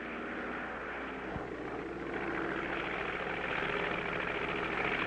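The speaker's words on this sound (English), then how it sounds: "We're going to thread a needle with an airplane." A steady aircraft engine drone hums throughout, rising slightly in loudness partway through.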